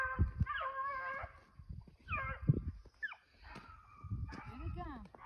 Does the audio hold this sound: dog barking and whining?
yes